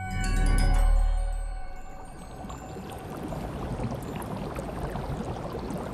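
A synthesized rushing, trickling water-like texture, continuous and fairly steady, following a brief low swelling tone at the start.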